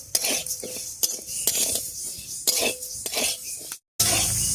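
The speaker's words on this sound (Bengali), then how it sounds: "ডালটা খুব ভালো করে ভেজে নেব" A spatula scrapes and clinks against a wok while fish dal fries and is stirred, with sharp metallic taps and a faint sizzle repeating in an irregular rhythm, close and fairly loud, with a brief dropout near the end.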